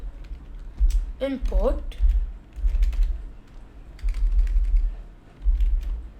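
Keys on a computer keyboard clatter in irregular bursts as Python code for a simple apple clicker game is typed, with a voice briefly speaking over the typing.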